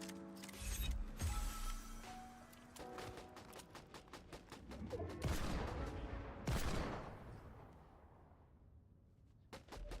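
Hand cannon gunfire in a video game rings out in a string of sharp, loud shots and rapid bursts, spaced unevenly over metallic mechanical clanks and creaks, with no voices.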